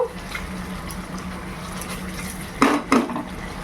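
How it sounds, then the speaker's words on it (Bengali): A metal lid clanks shut on a cooking pot of prawn korma, two quick close knocks near the end after a quiet stretch of low kitchen hum. "দিয়ে ঢাকনা বন্ধ করে দেব"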